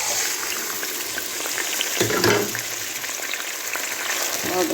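Rice fries in a pan of ghee and oil for Egyptian fatta. A steady, bright sizzle is broken by a scraping stir and a louder burst midway, with no talking.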